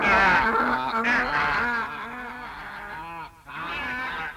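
Cartoon birds honk loudly in a rough goose-like chorus, harmonic calls overlapping one after another, with a brief dip before the honking resumes.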